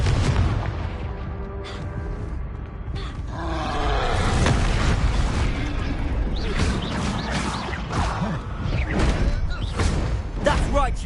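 A Confringo blasting spell erupts in a Harry Potter magic game, a loud, dense burst of booming, crackling blasts that keeps roaring for several seconds with no quiet gaps.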